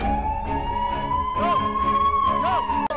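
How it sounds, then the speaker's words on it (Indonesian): An ambulance siren in a film scene holds a single sustained, slowly rising wail, loud and continuous for the whole stretch. "menyalakan sirine ambulan agar dekan keluar"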